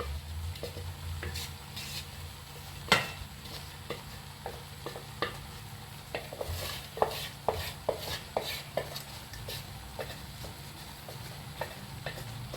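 Prawns, raw mango and jackfruit seeds for a Kerala thoran are stirred in a pan, with a steady low sizzle under repeated light scrapes and taps of a spoon against the metal, close by and without talk.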